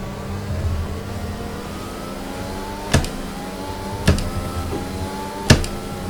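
Mercedes Formula 1 car in the racing game F1 2020, engine tone rising steadily through the gears, with three sharp clicks or shifts spaced a second or so apart, close and clear.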